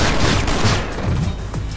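Gunfire in the PlanetSide 2 shooter game, a dense fusillade of rapid shots and booms crackling continuously and loudly throughout the short stretch.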